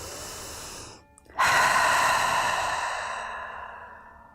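Deep breathing during a hip-opening yoga stretch: a brief pause, then one long, close exhale that rushes out loudly and slowly tapers away, with no talking.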